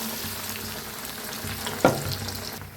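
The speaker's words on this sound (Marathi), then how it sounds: "तर छान असं तळायला लागले बघा मस्त वडे किती छान झालेत बघा" Batter-coated vadas deep-frying in hot oil, a loud continuous bubbling hiss with one brief clatter near the end.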